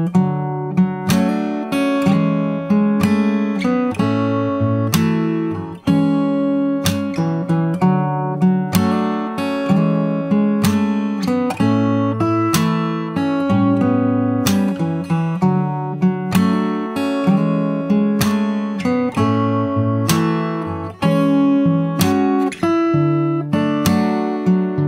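Solo acoustic guitar plays the chorus fingerstyle, with steady plucked bass notes and chords in a gentle, regular rhythm, close and clear with no talk.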